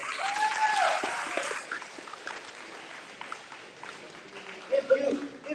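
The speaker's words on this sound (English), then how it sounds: "Let's give a big round of applause for everybody." Audience at a Toronto school Scrabble championship final giving a round of applause, a short burst at the start fading into a murmuring crowd with voices talking over the room.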